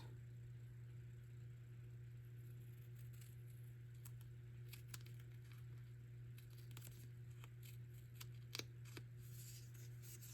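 Scissors cut through tape at a paper craft and junk journal table, making faint, crisp snips and light crinkles over a steady low background hum.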